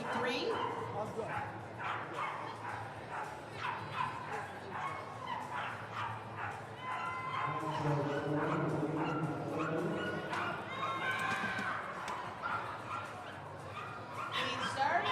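Dogs bark and yip repeatedly at a flyball tournament at the Westminster Kennel Club Dog Show, excited calls overlapping with constant announcer talk and arena crowd noise.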